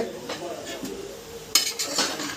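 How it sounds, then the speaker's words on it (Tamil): The metal lid of a pressure cooker holding chicken gravy is handled and opened with a few light clinks and a sharper clatter, quiet and close. "இப்போ நம்ம வந்து குக்கரை ஓப்பன் பண்ணி பார்த்துக்கலாம்."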